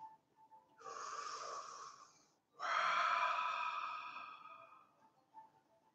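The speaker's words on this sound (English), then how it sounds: "So we're gonna sit here and do some deep breathing." Two long, deep breaths during a seated breathing exercise, a drawn-out inhale followed by an even longer, airy exhale, close and clear against near silence.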